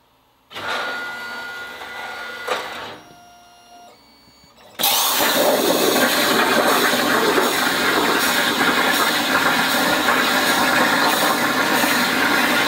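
A CNC plasma cutter starting a cut through 1/4-inch mild steel: a few short whirring machine movements, then an abrupt loud, steady hissing roar of the arc that continues without letting up.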